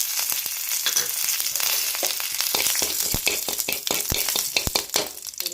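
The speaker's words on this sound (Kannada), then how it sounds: "ಒಗ್ಗರಣೆ ಮಾಡ್ಕೊಳ್ಳೋಣ." Mustard seeds and curry leaves sizzling and popping in hot oil in a pan for tempering, a steady hiss broken by sharp irregular crackles and spits throughout.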